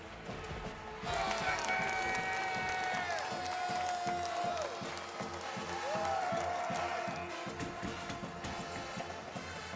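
A hockey arena crowd at the 2022 NCAA Frozen Four final between Denver and Minnesota State roars and cheers steadily throughout, a dense, loud wash of many voices with a few sharp tonal sounds rising above it.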